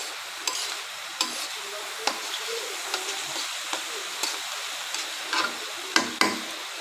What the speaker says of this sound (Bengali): মশলাটা ভালোভাবে ভুনে নিতে হবে